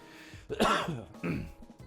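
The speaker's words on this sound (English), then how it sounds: "Sorry for the coughs." Two quick, close coughs in a row, harsh and throaty, one right after the other.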